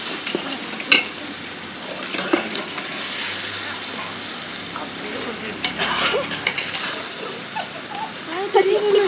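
Meat for dum biryani sizzling in oil with masala and yogurt in a pot, soft frying crackle punctuated by scraping stirs and clinks, a voice speaking over it.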